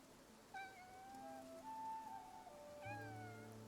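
A cat meows a few times in Infinity Nikki against a quiet, rainy background, with soft game-like tones drifting underneath.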